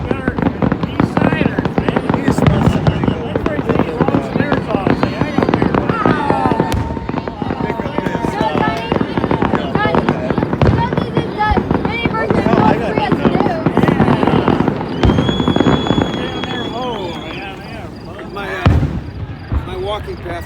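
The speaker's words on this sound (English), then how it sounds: "It's going to be all these fireworks." Outdoor downtown fireworks display with bottle rockets, dense crackling and popping bursts continuing steadily throughout, with people talking nearby over the noise.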